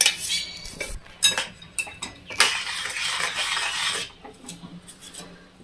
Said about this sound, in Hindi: जल्दी से मिक्स करना है।